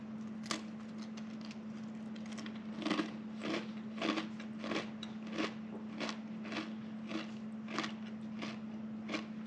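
Crisp, close bites and chews of a thin, crunchy Dutch cinnamon biscuit, a steady series of sharp crackling crunches over a constant low hum, with no talking.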